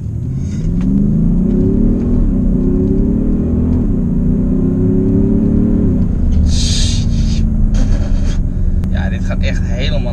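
An Audi SQ7 diesel SUV pulls hard down a straight, its engine note climbing through rising gear sweeps with a deep rumble inside the cabin, with people talking over it near the end.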